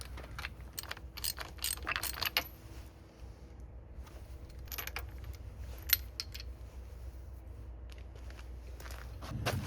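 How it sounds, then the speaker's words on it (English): A ratchet works spark plugs out of an engine, with scattered sharp clicking bursts and metallic handling noises over a low background hum, close up and without talking. "I need to remove each one of these spark plugs"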